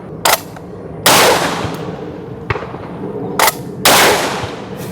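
A shotgun firing Remington 00 Buck 9-pellet shells during a 1000-round torture test of a Çelik Arms Buck Master Gen 2 M, with four loud close blasts in two quick pairs, each followed by a brief echoing tail.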